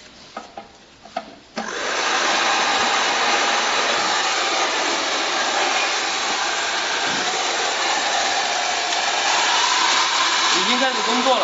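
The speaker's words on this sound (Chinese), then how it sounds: "我们再来试一下吹风机，这个是家用的2800瓦的吹风机，" A 2800-watt household hair dryer powered from an inverter roars steadily and loudly after a few clicks and bumps, with a continuous airy rush close to the microphone that holds for about ten seconds.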